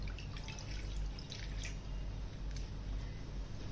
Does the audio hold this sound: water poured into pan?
yes